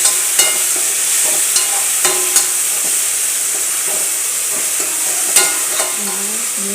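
Garlic and chopped tomatoes sautéing in a pan for a home-style fish curry, a steady close bright sizzle with occasional spoon stirs and scrapes, no talking.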